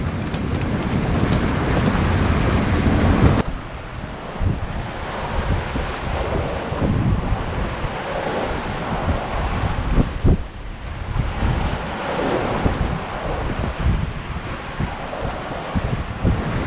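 Steady wind roars across the microphone while waves wash and slosh around a small sailboat at sea on a solo overnight passage from Carriacou to Martinique, a continuous loud rush with occasional splashes and no talking.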